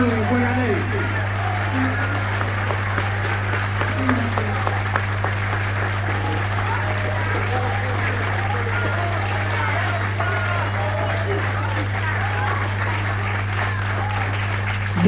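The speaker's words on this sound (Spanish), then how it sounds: "Un aplauso fuerte" Audience applause at a tango show, steady dense clapping lasting the whole stretch over a constant low electrical hum.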